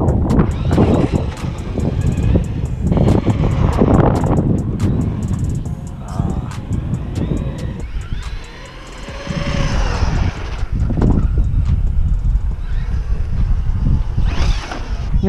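A Traxxas Hoss RC truck drives outdoors and pops wheelies. Its electric motor whines in rising and falling bursts under gusty wind rumble on the microphone, with voices in the background.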